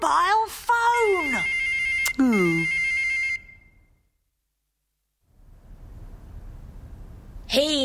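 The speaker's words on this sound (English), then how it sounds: "It's Shane! With a mobile phone!" A mobile phone rings with a loud, close electronic ringtone melody mixed with talking for about three seconds, then falls silent before a low rumble and a brief final burst.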